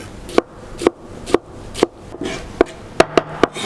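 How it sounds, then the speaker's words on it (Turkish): A knife chops tomatoes into small pieces steadily on a cutting board, about eight sharp close taps at a slightly uneven rhythm, with a quick cluster near the end. "Şimdi domateslerimizi alalım. Güzelce böyle küçük küçük doğrayalım."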